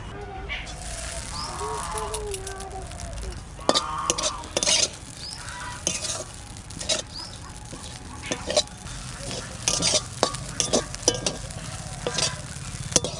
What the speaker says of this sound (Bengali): ব্রেড ক্রাম্বস, পাউরুটিটাকে ভালো করে গুঁড়ো করে নিয়েছি মিক্সিতে, দিয়ে এবার এটা ভাজবো